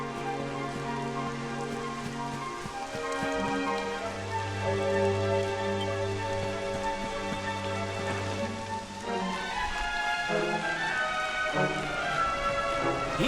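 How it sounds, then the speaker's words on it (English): Rain falls in the video game Dragon Quest XI S: Echoes of an Elusive Age, a steady patter under sustained layered game music with shifting tones. "And it rains again."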